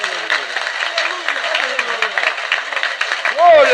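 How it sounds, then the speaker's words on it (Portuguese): Church congregation clapping and cheering together, a dense, steady wash of claps with voices mixed in, fairly loud and close, rising slightly at the end. "Palmas para Jesus."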